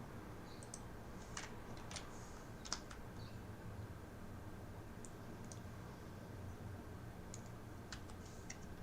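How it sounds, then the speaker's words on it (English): Scattered keystrokes on a faulty computer keyboard, faint clicks and taps arriving in small irregular clusters over a quiet background hum, with no speech. "My keyboard has a problem with the A key."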